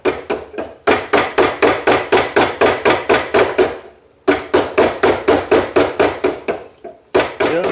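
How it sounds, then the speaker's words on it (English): Steady, rhythmic chisel strikes carving the bow of an old wooden model boat, loud and close, in two long runs of evenly spaced sharp knocks separated by brief pauses. "So back to chiseling the bow"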